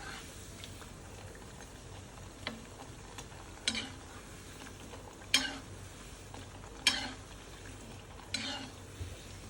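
Sambar vadam fries in oil in a pan with a steady low sizzle, broken every second or so by sharp stirring and clinks of a utensil against the pan.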